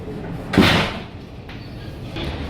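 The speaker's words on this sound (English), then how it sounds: "I know this is the disabled Automatic door." An automatic accessible toilet door on a train to Ipoh slides open with a brief whooshing rush, then quieter thuds and hum, with a steady background drone.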